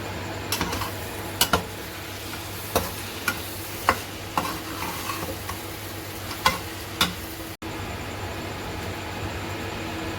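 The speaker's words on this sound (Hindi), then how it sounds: "इसमें स्पाइसेस ऐड करके अच्छे से मिक्स कर लें और 5 मिनट के लिए इसको अच्छे से इसकी भुनाई कर लें" Keema masala with spices being stirred and fried in a pan for a stuffed karela dish, with a steady low sizzle and scattered sharp spoon scrapes and taps at irregular intervals, fairly quiet and without talk.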